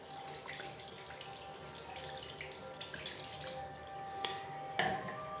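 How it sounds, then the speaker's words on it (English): Tap water runs steadily into a sink while faucet aerator filters are rinsed, a continuous splashing flow with a couple of sharper splashes near the end. "And then rinse it again, pour some water on both sides."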